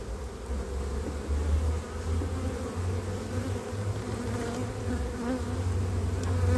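Honeybees buzz in a dense, continuous drone close by during a hive inspection of small frames, steady and moderately loud with no talking.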